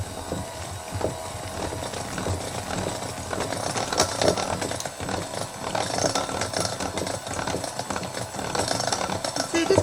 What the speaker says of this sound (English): Alright, and then we're going to just mix it up. I'm just going to use my hand mixer.